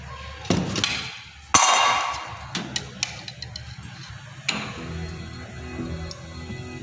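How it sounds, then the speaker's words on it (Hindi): A gas stove burner lit for cooking sweet bread, with sharp igniter clicks and taps over a background hum, then a steady low flame roar settling in near the end, close and fairly loud. "अब गैस का फ्लेम जो है वो ऑन करेंगे।"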